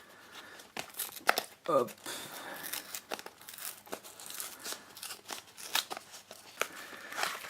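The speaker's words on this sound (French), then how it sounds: "On va ouvrir ça sans déchirer comme le précédent." Crinkling plastic and tearing card are heard close up as the packaging of a Yu-Gi-Oh Speed Duel box is opened, with irregular crackles and rustles while a person speaks briefly.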